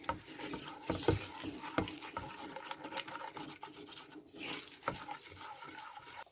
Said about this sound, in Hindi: अभी इनको मैं मिक्स कर दूंगी।